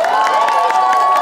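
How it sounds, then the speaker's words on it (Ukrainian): Festival crowd in the Verkhovyna area applauding and cheering the orchestra's first violinist, a dense steady wash of clapping with a sustained tone running beneath it. "Оплески йому."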